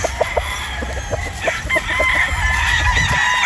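A straight-comb sweater Boston gamefowl rooster clucks in quick, sharp bursts, then lets out a sustained crow, loud and close.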